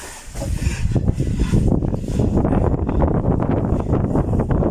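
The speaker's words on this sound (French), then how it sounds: "Il y a du vent." Steady outdoor wind buffeting the microphone, a loud continuous rumble with gusty fluctuations throughout.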